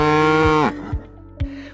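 A cow lets out a loud, close, drawn-out moo that ends abruptly, followed by a few brief soft thuds.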